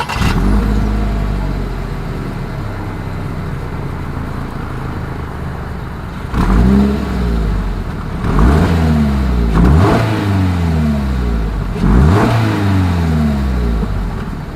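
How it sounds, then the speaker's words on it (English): A 2022 Toyota GR86 sports car's exhaust idles with a steady low rumble, then barks through four sharp, loud revs that climb and fall back, each blip close and unaccompanied by talk. "As always, here is that exhaust clip."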